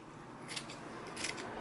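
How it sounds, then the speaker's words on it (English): Scissors snip through fabric of a sewn bag panel, cutting close along a stitched seam: two short bursts of crisp shearing strokes, near and clear, with no talking. "I'm cutting as close as I can to that sewn line like that"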